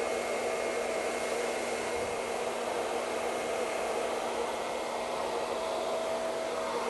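A hair dryer blows hair dry with a loud, steady whooshing roar and a constant motor whine, unbroken and close by, with no talking.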